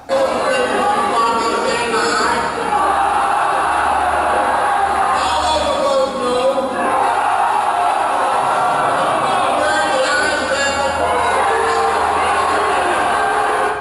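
Convention delegates packed in a crowded hall shout a voice vote, caught on a cell phone from inside the crowd: a loud, continuous swell of overlapping yelling and cheering voices that rises and falls in waves.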